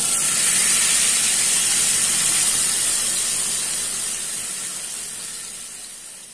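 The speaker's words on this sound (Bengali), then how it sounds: "তেল গরম হয়ে গিয়েছে আর এই মাছটা এখন এতে দিয়ে দেব।" Spiced pomfret fish sizzles loudly in hot oil, a strong steady hiss and crackle close up that slowly eases over several seconds, with no voices.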